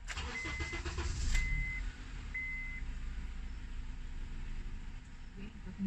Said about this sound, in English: The car is going to come on for a bit and then stall.